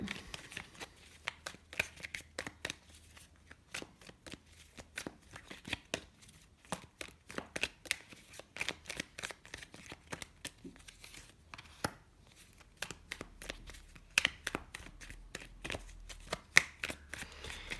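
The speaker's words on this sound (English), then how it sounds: "Let's pull some more clarifying cards here." Tarot cards being shuffled and pulled from the deck, a close run of rapid riffling flicks and slaps in irregular bursts over several seconds, crisp and fairly quiet, no speech.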